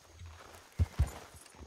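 Horse hooves clip-clopping on the ground in Red Dead Redemption II, a few soft, uneven steps with two heavier thuds close together, fairly quiet and near.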